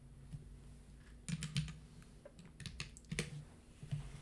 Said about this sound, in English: I'm just gonna have to type it then